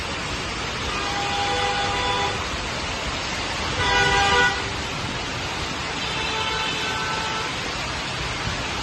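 Traffic on Bhubaneswar streets during heavy rain, with a steady roar of rain and vehicles broken by three sustained car horn blasts spaced a couple of seconds apart, the middle one loudest.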